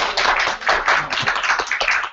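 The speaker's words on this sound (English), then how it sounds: "please, a big applause for you guys" Crowd applause at a community orientation meeting, a dense, steady wash of many hands clapping close by with no talk, lasting the whole stretch.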